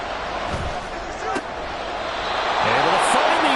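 Steady stadium crowd roar at a Panthers football game, a loud broad wash that swells toward the end beneath a commentator's voice.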